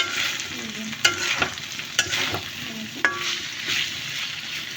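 A pan of fish curry fries in bubbling oil, a steady close sizzle broken by a few sharp spoon scrapes and stirring knocks against the pot, with no talking.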